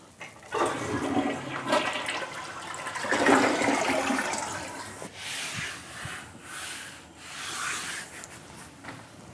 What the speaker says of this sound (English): I always want to make sure I flush 3 or 4 times to make sure we're safe.